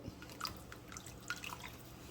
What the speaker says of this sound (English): we're gonna add in a couple splashes of soy sauce.